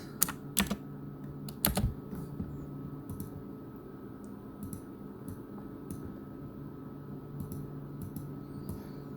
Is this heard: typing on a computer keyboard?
yes